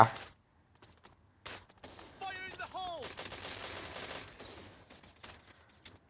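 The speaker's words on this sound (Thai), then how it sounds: "ไม่มีเก็บเสียงด้วย MP5 กระบอกนี้" Unsuppressed MP5 submachine gun fire in the video game Bullet Angel, with short bursts of shots and a few metallic clicks, moderately loud over faint background game sounds.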